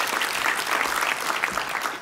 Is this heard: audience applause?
yes